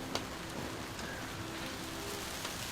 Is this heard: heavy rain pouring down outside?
yes